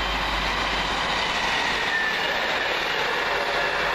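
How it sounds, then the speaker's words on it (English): A Northern Rail passenger train on the Manchester Piccadilly to Chester service passes at Heaton Chapel, a steady loud rumble and wheel roar filling the whole stretch with no talking. "First up for Northern Rail, 2 Hotel 25, I believe, from Manchester Piccadilly to Chester"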